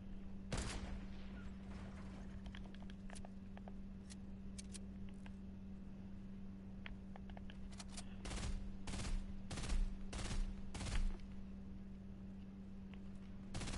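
Gunfire in a video game, bursts of sharp shots clustered in quick volleys, with a steady low hum underneath and quiet clicks between bursts.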